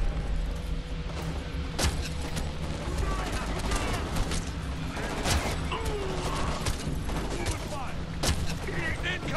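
Combat in Homefront: The Revolution with crossbow shots among other weapons fire: sharp repeated cracks and mechanical snaps at irregular intervals over a dense, noisy battle background, with voices talking throughout.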